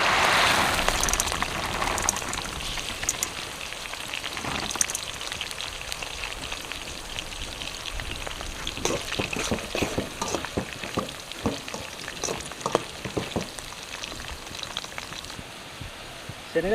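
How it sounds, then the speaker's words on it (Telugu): Raw chickpeas fry and are stirred in a pan while pulihora is cooked for a festival, giving a steady close sizzle with scraping and clattering of the stirring throughout. "శనగలు అయితే కొంచెం మంచిగా వేగినాయి."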